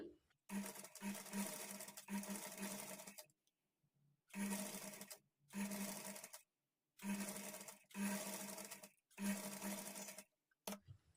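A sewing machine stitches piping onto a blouse neckline in a series of close, loud bursts of rapid needle clatter, each lasting about a second and separated by short silent pauses.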